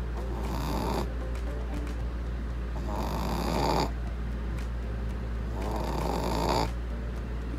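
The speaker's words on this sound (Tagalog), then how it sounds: "humihilik pa rin siya." A Shih Tzu puppy snores close by in a slow, regular rhythm, each rasping inhale lasting about a second, repeated three times over a low steady hum.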